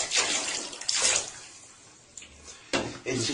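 Water runs and splashes in bursts while a cat is being bathed, the rushing swelling and fading several times at close range.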